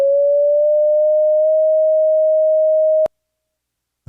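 A steady pure pitch tone from a pitch-matching practice app, held evenly for about three seconds and ending in a brief click, then near silence.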